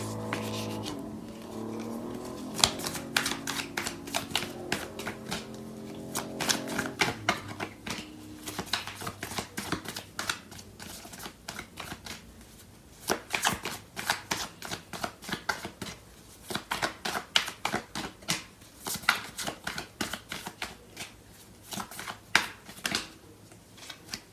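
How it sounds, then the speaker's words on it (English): Tarot cards being shuffled by hand, a long run of crisp riffling and flicking card sounds in quick bursts, close and clear, with a soft tonal background at the start. "So I'm gonna pull out some cards to clarify these."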